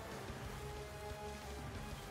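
Rain weather in a Pokemon video game battle: a steady, dense hiss of falling rain, continuous and even throughout with no voices.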